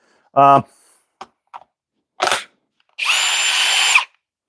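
A Flex compact cordless drill bores a hole in wood with one loud, steady whir lasting about a second. It follows a brief voiced sound and a few short clicks and knocks.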